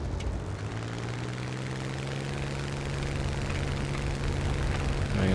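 A Spitfire Mk IX engine in War Thunder drones steadily while taxiing onto the runway, a low, constant propeller hum that swells slightly toward the end.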